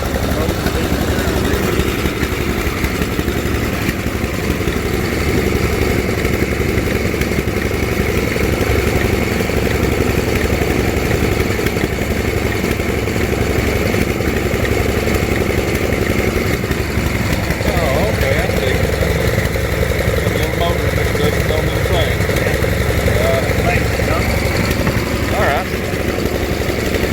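An old tractor engine runs steadily at a historical society tractor and machinery show in Three Forks, a loud continuous mechanical drone with faint clatter, while people talk nearby over it.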